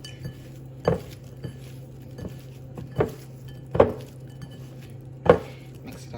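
Shrimp being tossed with ground allspice and annatto seasoning in a bowl, with a spoon knocking against the dish in four or five sharp clinks spaced across the clip over soft scraping, close and moderately loud.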